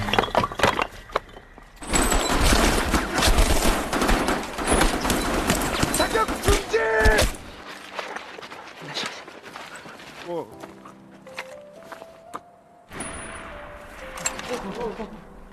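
Gunfire in a Korean War film scene against North Korean troops: sharp bursts of rifle and machine-gun shots crack loudly in dense clusters, then give way to scattered single shots and lower rumbles, with voices and a narrator talking over parts of it.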